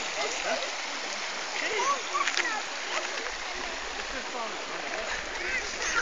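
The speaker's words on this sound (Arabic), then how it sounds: "هنا بالطرف الاخر اكو عيون تنبع من غير مناطق فوق الجبل، هذا جريان اخر." Mineral spring water flows down from higher ground on a mountainside in Armenia, a steady close splashing stream that runs continuously throughout with no pauses.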